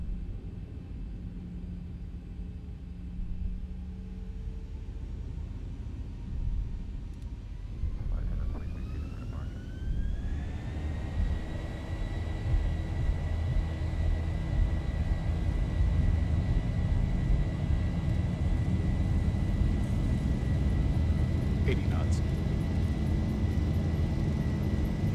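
A Boeing 737-800 in the X-Plane 11 simulator, a Zibo model leaving Madrid, runs its takeoff roll: a steady engine hum swells into a loud, rising jet roar with a whining tone that holds on as the aircraft accelerates, with occasional cockpit voice callouts.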